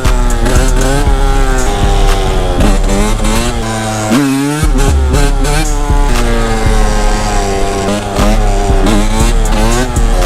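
Two-stroke Suzuki RM125 motorcycle engine revving hard and loud up close, its buzzy harmonic note rising and falling through repeated throttle blips, with a brief dip near the middle before climbing again.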